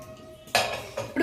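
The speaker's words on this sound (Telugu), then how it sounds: "ఇప్పుడు కుక్కర్ మూత పెట్టుకొని" A metal pressure cooker lid is set onto the pot with a sharp clatter, followed by two smaller metallic knocks as it settles. The sounds are close and brief.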